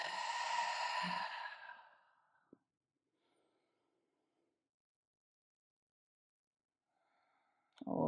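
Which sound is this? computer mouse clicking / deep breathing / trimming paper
deep breathing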